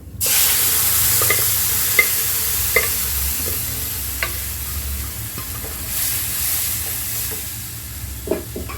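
Steady sizzling of watermelon rind and moong dal frying in a pan, with occasional scraping clicks of stirring throughout.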